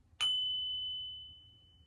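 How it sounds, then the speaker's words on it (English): A small meditation bell is struck a single time during a morning sitting practice, a bright, fairly soft ding that rings on and gently fades over about a second and a half in quiet surroundings. "Let me ring the bell."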